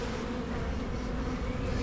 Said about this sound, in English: I've got a few bees around my head at the moment